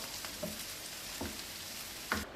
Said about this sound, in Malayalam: കടുക് വറുത്തൊഴിക്കുകയാണ്.